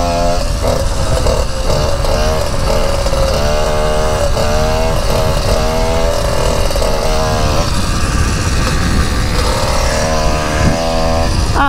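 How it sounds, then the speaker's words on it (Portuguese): A loud motorcycle engine revs and drones close by, its pitch rising and falling steadily for several seconds. "Deixa a moto passar"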